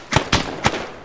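Gunfire in a World War II battle video game: three sharp, loud shots in quick, uneven succession within about a second, with nothing else heard.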